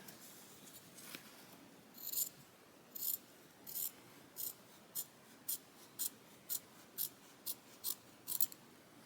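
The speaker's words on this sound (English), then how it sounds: "I'm going to use these scissors again" Duckbill scissors trim fabric held in an embroidery hoop with about a dozen crisp, evenly timed snips. Each snip is quiet and close against a faint hiss.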